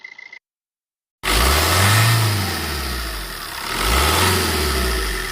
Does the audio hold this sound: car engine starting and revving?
yes